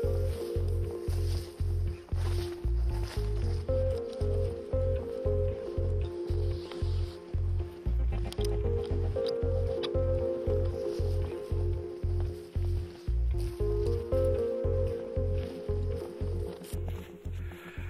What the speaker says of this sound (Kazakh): мынандай қалың қар жауған кезде аяқты көтеріп жүру оңай емес екен